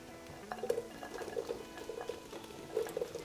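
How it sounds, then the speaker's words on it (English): Chicken stock poured into a pot of diced potatoes and bacon, a soft bubbling, pattering liquid sound at low volume with small splashes throughout. "And then we're gonna add our chicken stock."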